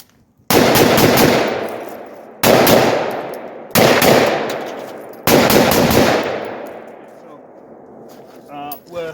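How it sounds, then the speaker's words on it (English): Rifle fitted with a Spitfire muzzle brake, fired outdoors at night: four loud, sharp shots a second or two apart, each followed by a long rolling echo that fades, with a bit of talk at the end. "Okay, so I'm gonna fire this in multiple directions."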